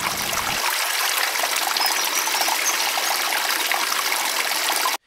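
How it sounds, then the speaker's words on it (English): Water streaming steadily past, a continuous bright rushing wash with faint bird song mixed in, holding level until it cuts off at the end. "I can focus in on only really the higher parts of the water streaming by and also the bird songs in the background"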